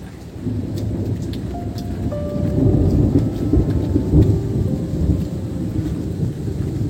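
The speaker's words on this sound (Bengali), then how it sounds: "বা শুনছেন কেমন ডাকছে আকাশ?" Thunder rumbling across the sky over steady rain, a deep rolling roar that swells and fades, heard at a distance with no talk.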